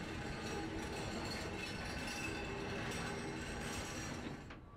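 A railway turntable operating in the Train Sim World 3 video game, a faint, continuous mechanical rumble with light metallic clinks and a squealing tone, steady throughout before fading at the end.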